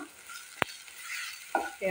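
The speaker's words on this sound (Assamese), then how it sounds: "মছলাখিনি মই ভালদৰে ইয়াতে ভাজি ল'ম" Spices fry in a pan while a banana flower dish is being cooked, giving a soft sizzle with a sharp stirring clack partway through and more scraping near the end, with no talking.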